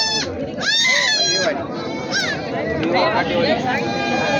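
Goats bleat several times, loud and near, amid a busy barnyard hum with people talking in the background at a goat market in Bolda, Kalamnuri taluka, Hingoli district.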